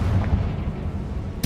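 Confringo fire spell blast in Hogwarts Legacy, a dense rumbling burst that sustains through the moment and ends in a sharp crack near the close.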